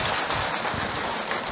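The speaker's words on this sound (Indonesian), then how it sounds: "Tepuk tangan buat beliau yang bertanya." A lecture audience claps for someone who asked a question, making a dense, steady wash of applause through the whole short moment.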